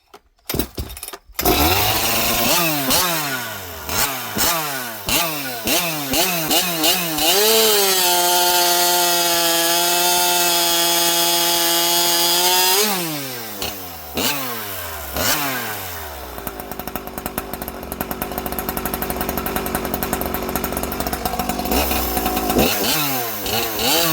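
A two-stroke chainsaw fitted with an aftermarket pipe cuts wood up close, its engine revving up and down in rapid cycles, then holding a steady high whine through the cut before dropping back and revving again, bogging briefly on a knot.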